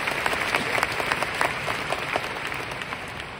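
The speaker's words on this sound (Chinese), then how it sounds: "我们在这里给老板一个掌声。" An audience at a company training seminar applauds in a hall, a steady round of many hands clapping at moderate distance that holds evenly throughout, with no talking over it.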